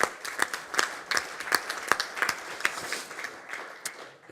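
A small audience at a medical lecture on capsulotomy gives a brief round of applause, with scattered, uneven claps that are fairly faint and thin out toward the end.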